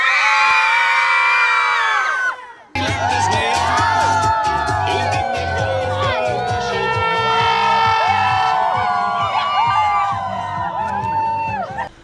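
A crowd of children shouts and cheers beside the course of a road cycling stage race in Slovenia, a loud, sustained mass of high voices that cuts out briefly, then bursts back in and carries on with whoops and screams.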